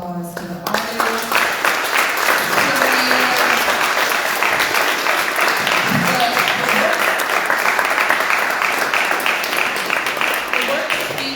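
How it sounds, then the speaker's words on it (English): An exhibition audience gives a full, dense round of applause for the artists at a closing program. The clapping is loud and sustained throughout, with a brief voice at the very start. "Please give a round of applause to the artists."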